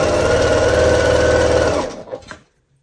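A sewing machine stitches fabric pieces for quilt star blocks in a fast, steady mechanical run that stops abruptly after about two seconds, followed by a couple of small clicks.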